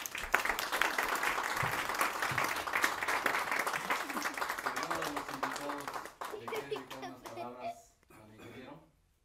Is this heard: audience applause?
yes